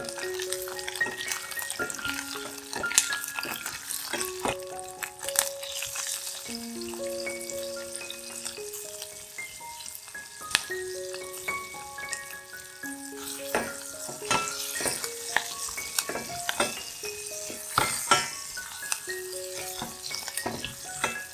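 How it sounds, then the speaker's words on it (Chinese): Steady sizzling and frying of pandan leaves with turmeric powder and salt, with frequent scraping and clinks of a spatula in a pan, while soft background music plays. "炒至香味出来后，加入2茶匙的黄姜粉、2茶匙的盐，炒均匀"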